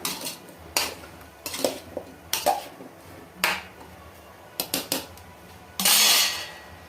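A spoon scrapes and clinks against a pan while sweet pumpkin curry made with jaggery is stirred in ghee, a series of sharp close metallic strokes in uneven rhythm, then a longer rough scrape near the end, without speech.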